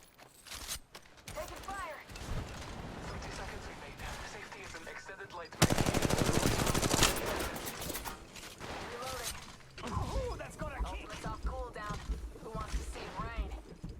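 Gunfire in the mobile battle-royale game Apex Legends Mobile comes as rapid automatic bursts, with one loud sustained volley midway. A player talks over much of it.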